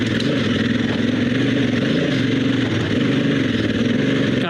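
A dual sport motorcycle on Pirelli Scorpion Rally tires powers up a dirt hill, its engine droning loud and steady under continuous throttle with no pauses or voices.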